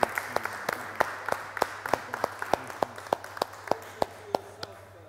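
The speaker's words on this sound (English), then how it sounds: "could we give a round of applause to Reverend Fourie for this program?" Applause from a small audience after a talk program on Islam and Christianity, sparse individual claps spaced out in an uneven rhythm, fairly near and moderately quiet over a low steady hum.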